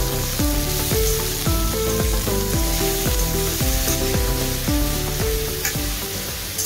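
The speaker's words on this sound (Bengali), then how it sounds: "এবার সবজিটা আমি সুন্দর করে এই তেলের মধ্যে ফ্রাই করব।" Vegetables sizzle steadily in hot oil in a pan for a vegetable dal, a constant close frying hiss running beneath rhythmic background music.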